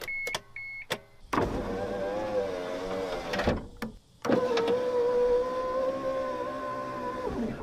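A 1999 Mitsubishi Montero power window is tested on battery power: after a few clicks, the electric motor whines as the glass travels, stops briefly, then runs again in a steady, close hum.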